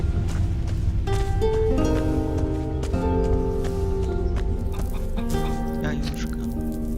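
Clucking hens from the fantasy game Risen, busy and continuous near calls mixed with background game music, while someone speaks in Polish.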